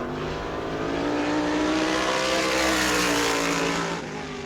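Race car number 84, driven by Tyler Catalano at New Smyrna during World Series qualifying, roars loudly and steadily past on a warm-up lap, its engine note rising and then easing off toward the end.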